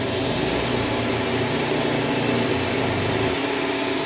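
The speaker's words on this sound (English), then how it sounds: "there's one little problem with this vacuum" A Shark Stratos vacuum cleaner with a self-cleaning brush roll runs steadily, a loud, close, unbroken motor whine and airflow roar that holds from start to finish.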